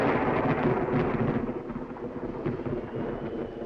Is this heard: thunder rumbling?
yes